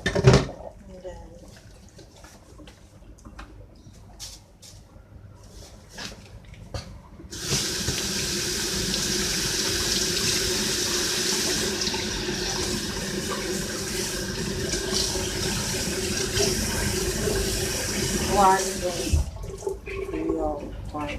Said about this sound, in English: Then drain and wash with cold water.